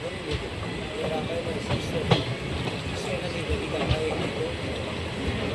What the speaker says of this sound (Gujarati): ઉપલેટાથી ટ્રેન ડિપાર્ચર થઈ ગયું છે.